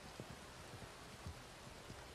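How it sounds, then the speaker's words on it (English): Rain falling in a horse-riding open-world video game, a faint, steady hiss of rainfall with scattered soft drop patters. "I feel like it never rained this much when I first played."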